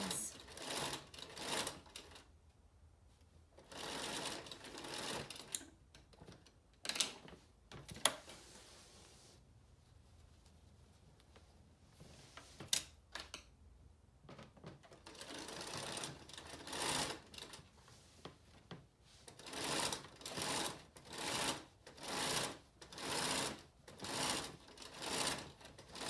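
A home sewing machine sews a boxed cushion cover in repeated bursts of rapid stitching, starting and stopping, with a voice talking softly in the pauses between runs.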